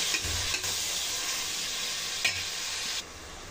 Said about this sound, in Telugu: ఈ టమాటాలని ఒకసారి కలుపుకొని బాగా మగ్గేంత వరకు కుక్ చేసుకోవాలండి.